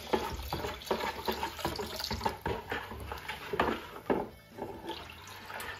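Very hot sugar liquid poured into a wine-making bucket, a quiet, uneven splashing and trickling of liquid with soft irregular pulses, close by and alone.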